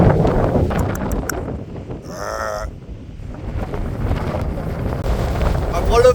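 Strong wind carrying sand haze buffets the microphone in loud, roaring gusts on Fuerteventura, with a brief tonal whine partway through.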